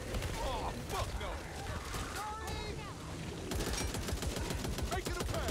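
Rapid gunfire in the co-op zombie shooter Back 4 Blood, dense bursts of shots running throughout over a loud, busy game mix, with players talking over the action.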